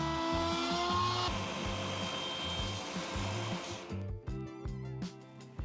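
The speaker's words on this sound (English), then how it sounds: "I'm doing as much of it as I can with various router bits" A router fitted with router bits shapes wooden cabinet legs, its high motor whine and chattering cuts pulsing in short rhythmic strokes, then winding down into lighter intermittent contact near the end.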